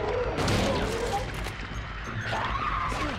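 Gunshots in Silent Hill 2 on PS2, a cluster of loud sharp bangs mixed with clattering and screeching game noise, dense and close, with people talking over it.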